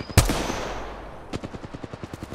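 Gunfire in the video game Apex Legends: one sharp, loud shot opens, then after a pause a rapid, steady burst of automatic fire rattles on, close and clear with no talk over it.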